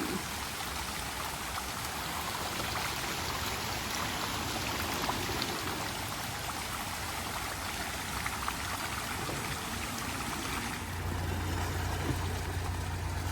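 Steady rushing flow of water through canal lock sluices, a constant broadband roar without breaks, with a low engine-like hum joining near the end.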